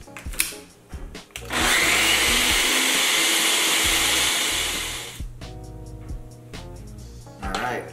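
A kitchen grinder pulverizing roasted pumpkin into powder whirs loudly in one sustained burst of roughly four seconds, bracketed by clatter and handling noises before and after.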